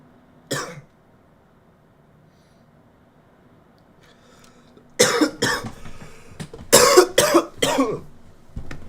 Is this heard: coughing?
yes